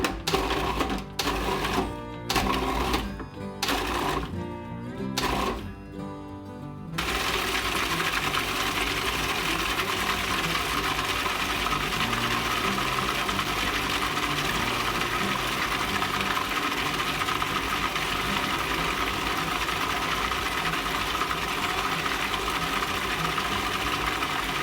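A food processor whirs steadily as it blends bananas with a stick of butter cut into pieces. Several short bursts come first, then the motor runs continuously and loudly for a long stretch, with no talking.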